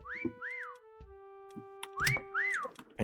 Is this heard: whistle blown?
yes